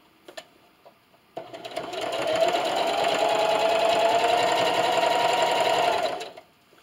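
A sewing machine stitching a fleece scarf runs in one steady, fast whir for about five seconds, preceded by a few soft clicks and stopping cleanly.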